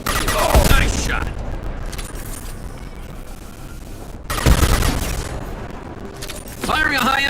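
Two loud bursts of sci-fi gunfire in Mass Effect 2, each a sharp blast with a crackling tail, separated by a quieter stretch of low ambience and brief electronic chirps.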